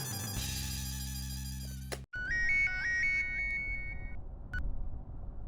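A phone places an outgoing call: a loud melodic tone sequence plays, cuts off abruptly, then gives way to a run of brighter electronic ringing beeps over faint background noise, with no voices.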